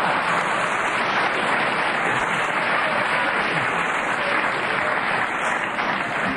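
A studio audience at a BBC radio panel game breaks into sustained applause, a dense, even wash of clapping that holds steady throughout with no talk over it.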